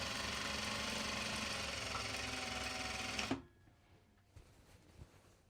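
A sewing machine runs steadily while top stitching a Japanese fabric bag, a loud, fast, even whir that stops abruptly partway through, leaving faint handling noises.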